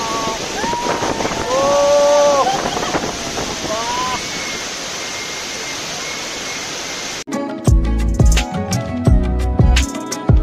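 A boat on the Indravati River near Chitrakoot waterfall, with a loud steady roar of rushing water and wind buffeting the microphone, voices calling over it, then closer, choppier splashing and knocking sounds.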